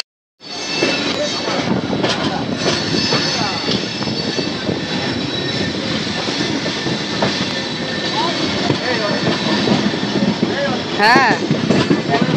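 A passenger train pulling out of Kharagpur Junction, a steady loud rumble of wheels and carriages heard from on board throughout, with a brief word spoken early on.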